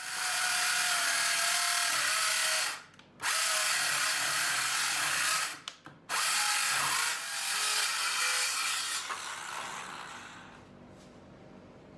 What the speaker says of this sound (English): We got our piece now marked where I want to cut it, so just going to take off this little strip here.